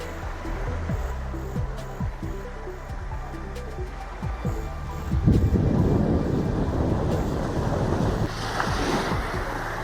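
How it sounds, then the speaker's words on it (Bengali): Ocean waves wash in at the seashore, a continuous roar of surf that swells louder midway, with wind buffeting the microphone and no talking. "এই সমুদ্র ধারে বসলাম"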